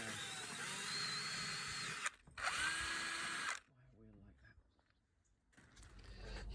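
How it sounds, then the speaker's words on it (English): A rotary tool fitted with a small carbide burr grinds deep rust pits out of Mercedes 107 SL suspension and brake parts. It gives two close, steady high-pitched whining bursts, then drops to quiet handling noise. "you can speed up the derusting process where you've got deeper pits of rust just by grinding that out with these little carbide burrs"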